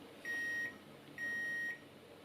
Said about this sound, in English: that beep on my multimeter is indicating that we have continuity